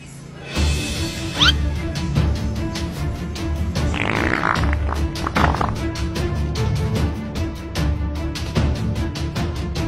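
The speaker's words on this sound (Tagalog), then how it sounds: "Utot na pinasok sa rep," A comedic fart sound effect, a single loud blast near the start followed by a busy run of bursts and noisy crashes, with no talking.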